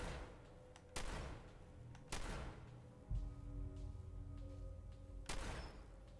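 Gunfire in Fallout 4, several sharp, loud shots spaced a second or more apart over a quiet background with a faint sustained tone, no talking.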